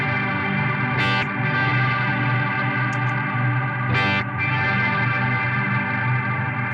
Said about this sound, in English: I feel like the reverb is being reversed on me